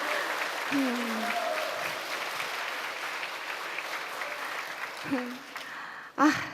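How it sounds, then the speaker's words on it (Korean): Audience applause at a Christian camp gathering honoring a musician, a steady broad wash of clapping filling the clip with a few voices rising briefly over it near the end. "여러분들 무엇 때문에 박수를 쳐주시는지 모르겠어요"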